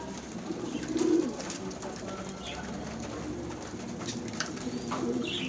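Soft, low cooing of pet pigeons at feeding time repeats throughout, layered over a steady murmur of nearby background noise.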